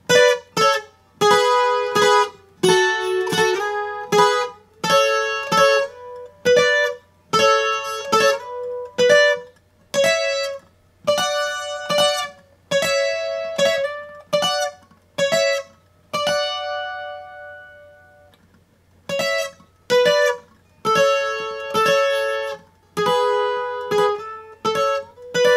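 Plucked guitar notes and strummed chords of the song Las Mañanitas ring out in a steady rhythm, with a brief pause midway before the playing resumes; no voices.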